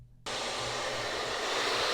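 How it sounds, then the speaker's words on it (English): A hairdryer set to high heat, used to dry wet paint, switches on abruptly and blows with a loud, steady close-up whoosh for the rest of the moment. "I'm hitting it with a hairdryer."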